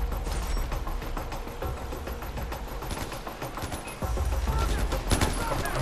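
Dense, sustained gunfire from the Far Cry 4 video game, a busy barrage of shots and mechanical clatter that runs the whole stretch and swells louder near the end.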